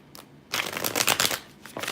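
Tarot cards being shuffled by hand, a soft, dense riffling flutter that builds after a quiet start and runs steadily for over a second before tapering, close to the listener with no talking.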